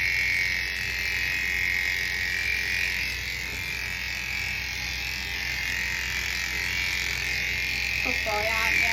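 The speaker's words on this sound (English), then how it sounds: "I am going to have to shave in between his feet out with a 10 blade as well." Electric dog clippers shave a matted Cockerpoo. The motor gives a steady, loud, close buzz that runs the whole time, and a brief vocal sound rises over it near the end.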